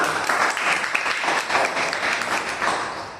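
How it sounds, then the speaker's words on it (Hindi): A class of students applauding themselves during a stargazing club training session in Pachmarhi, a steady burst of many hands clapping together at close range, sustained evenly before tapering slightly at the end. "तो एक बार तालियां अपने लिए"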